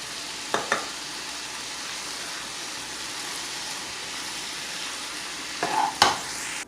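Poha (parched rice) stirred in a pan with lemon juice, a soft steady sizzle under a couple of sharp spoon scrapes near the start and end.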